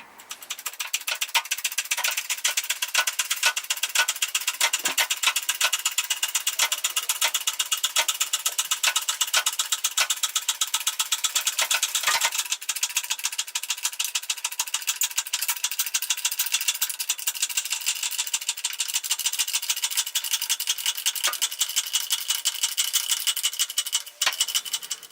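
An Abba Sky Lift motorcycle lift in a small garage gives off a steady, loud mechanical ratcheting whir while raising a bike off the ground, with a few brief clunks along the way.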